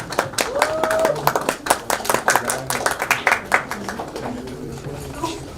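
Audience clapping at a conference meet-and-greet for a celebrity guest, a moderately loud, irregular patter of hands with a voice briefly heard over it.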